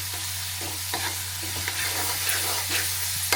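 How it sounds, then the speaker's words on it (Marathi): Masala paste is stir-fried in oil in a pan for a prawn and okra curry, with a continuous close sizzle broken by repeated scraping strokes of a spatula and a low steady hum beneath; no speech. "आता हे थोडंसं परतून घेतलं"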